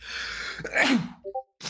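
A single human sneeze, close and sharp, a short inhaled gasp building into an explosive burst, followed by a few small vocal sounds and a brief breath.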